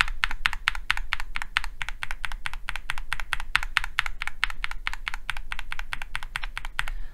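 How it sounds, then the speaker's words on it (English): Rapid, steady typing on a mechanical keyboard fitted with Gateron G Pro switches, a dense run of crisp clicks and clacks with a slightly subdued tone, close and continuous with no talking. "slightly more subdued kind of sound coming from the G Pro"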